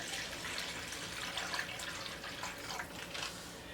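Broth poured from close by into a reclosable quart or gallon plastic bag, a steady gurgling, splashing stream that runs unbroken for the whole stretch with no voices.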